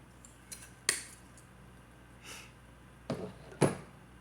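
Wire is snipped into pieces for wire-wrapped chain links, giving a few sharp, close, isolated clicks of a cutter spaced irregularly over a quiet background.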